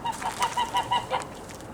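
Birds at a duck pond give a run of about six clucking, honking calls in a quick, even rhythm, moderately near with a faint outdoor background.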